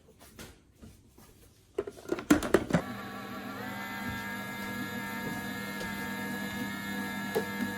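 A stand mixer with a whisk attachment on speed 1 mixing ground almonds, sugar and flour: a few clunks and rattles as it starts, then a steady whirring motor hum that runs on evenly.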